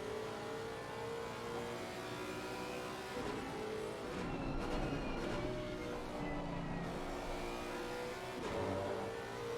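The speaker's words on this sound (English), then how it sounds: "Rob Kisar applying that pressure from behind in the Porsche." Race cars including a Porsche at Oulton Park circuit, engines revving and accelerating loudly and continuously, with a couple of cars swelling past mid-way and again near the end.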